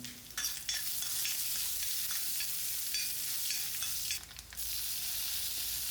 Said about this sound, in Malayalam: ഇനി നമുക്കിത് വറുത്തിട്ടാണ് വേണ്ടത്. വെളിച്ചെണ്ണയിൽ കടുക്, പിന്നെ ഇതാ വറ്റൽമുളക്